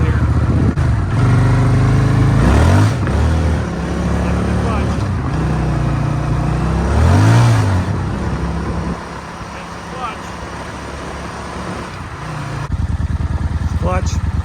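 A 2003 Suzuki Intruder VS800 motorcycle with worn, slipping clutch plates and freshly replaced slave cylinder revs up in two strong surges, engine rising and falling loudly at close range, then settling to a steady run.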